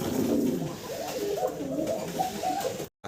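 Fancy pigeons kept as a male and female pair give soft, throaty, rolling coos close by. The calls rise and fall continuously for a few seconds before a brief cutoff at the end.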